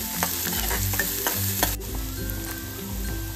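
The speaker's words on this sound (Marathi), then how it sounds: "आता हा कांदा ना तेलावरती परतून घेऊयात।" Finely chopped small onion sautéing in hot oil in a pan, a steady close sizzle with repeated scraping and stirring strokes, no voices.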